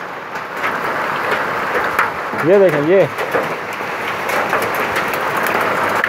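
Large hailstones fall in Muzaffarabad, Azad Kashmir, making a steady, dense patter across the whole stretch while someone speaks briefly over it.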